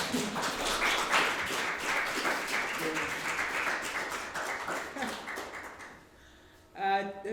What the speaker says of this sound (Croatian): možda možemo pljeskom čestitati